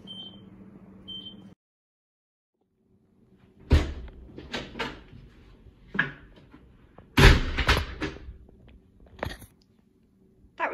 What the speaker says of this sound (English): That was the door opening and shutting.